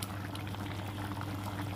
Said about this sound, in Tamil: குழம்பு நல்லா கொதிக்க ஆரம்பிச்சிருச்சு